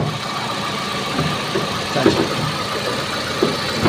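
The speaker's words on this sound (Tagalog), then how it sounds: "Ito yung makina niya, napaka-silent." A Kia Rio car engine idles with a steady low rumble and a faint rhythmic ticking, close and constant, with a few small bumps in level.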